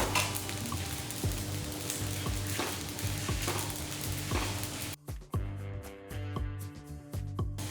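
Dried red chilies and curry leaves crackle and sizzle steadily in hot oil for a Chettinad chicken curry, a dense close frying hiss, briefly thinning near the end where sharper pops and the clink of a stirring spoon come through.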